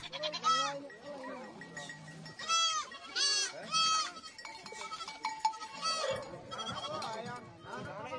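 Several sheep bleat repeatedly in the Omo Valley ahead of a wedding sacrifice, wavering cries near and far in irregular bursts, with a cowbell clinking and people talking in the background.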